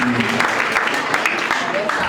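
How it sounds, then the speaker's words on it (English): An audience at a university week celebration gives a brief round of applause, a close, even wash of clapping mixed with voices throughout. "just give yourself a round of applause"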